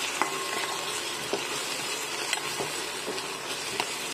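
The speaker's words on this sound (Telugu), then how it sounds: "దీన్ని కొద్దిగా వేగనిద్దాం." Ginger, garlic and green chili paste with onions and a pinch of turmeric frying in a pan for egg fried rice, a steady close sizzle with occasional stirring clicks, no voices.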